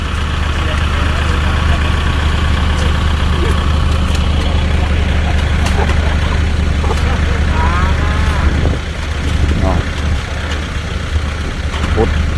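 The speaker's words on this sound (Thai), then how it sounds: "เราก็จะใช้รถไถนะฮะคูโบต้าดันตูดครับ" A Kubota farm tractor's engine runs loud and close with a steady low rumble while pushing a dump truck stuck in mud, the drone continuous throughout with voices faintly mixed in.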